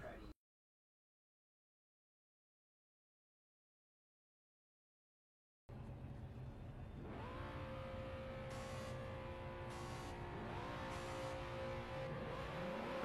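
Race cars in a video game accelerate off the start line after a stretch of near silence, a sudden loud steady engine roar with rising whine layered through it and no voices.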